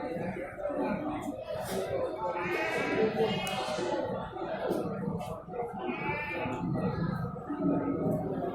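Goats bleat repeatedly at the busy Sibreh animal market in Aceh, close and loud, mixed with the steady murmur of crowd chatter and people talking throughout.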